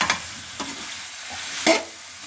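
Cabbage stalks are being stirred and fried in a pan with amchur powder and spices, giving a soft ongoing sizzle broken by a few sharp scrapes of the utensil against the pan.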